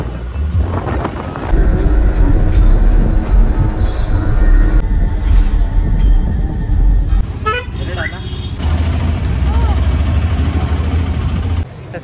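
A passenger train rolls along on a journey in Karnataka, sounding its horn in long steady blasts over the rumble of the wheels, with voices chattering nearby.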